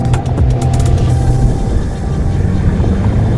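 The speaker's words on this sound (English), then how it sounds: "Why is the truck coming around there?" A loud off-road racing truck engine roars steadily as it drives past nearby at a racing event, its motor droning without a break.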